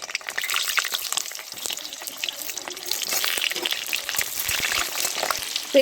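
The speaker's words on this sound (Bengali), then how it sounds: "এবার পটলগুলো আমি আস্তে আস্তে ছেড়ে দিচ্ছি তো পটলগুলো কিন্তু ভালো করে একটু ভেজে নিতে হবে" Pieces of pointed gourd (potol) frying in hot mustard oil, a close, busy crackle and spatter of sizzling droplets that grows denser over the few seconds.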